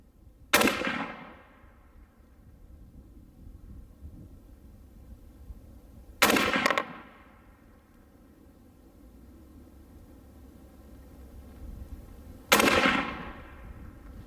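.22-250 rifle shots fired at 100-yard targets, three sharp, loud cracks spaced about six seconds apart. Each crack trails off in a short echo before a quiet outdoor background.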